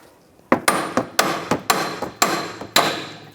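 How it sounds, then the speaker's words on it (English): Sharp metallic hammer blows ring out on the threaded end of a 2003-2008 Subaru Forester outer tie rod, about eight strikes at a steady pace, each decaying quickly. "You can just hammer on the end of these threads, or use a punch and then hammer it."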